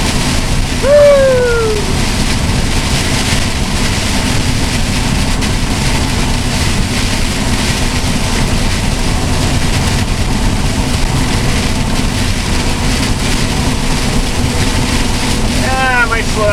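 Heavy rain drumming on a car driving through a storm, a loud, constant roar of rain and road noise with a brief squeal near the start and no break in the downpour.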